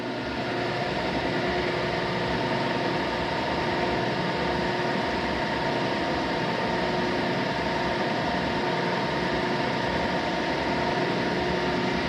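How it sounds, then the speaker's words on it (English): A drill with a slight wobble runs steadily while machining a steam engine part, making a loud, continuous, even drone with a low rumble and no pauses or talk. "drill here has got a little bit of a wobble to it."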